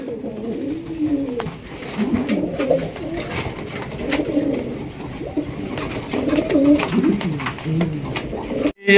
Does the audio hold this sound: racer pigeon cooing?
yes